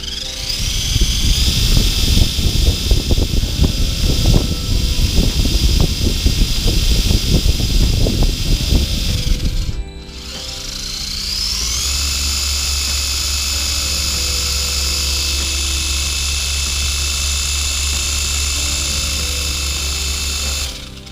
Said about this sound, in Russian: баги-мотор напрямую в состоянии раскрутить винт